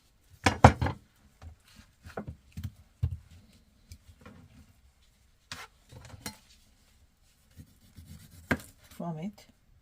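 Close, scattered scraping and rubbing while the skin is peeled off a beetroot in a kitchen, in short uneven strokes with quiet pauses between them. A voice briefly joins near the end.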